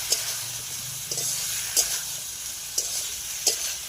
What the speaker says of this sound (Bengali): আদা বাটাটা দিয়ে আর একবার নাড়িয়ে নেব